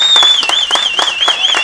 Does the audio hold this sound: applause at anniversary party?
yes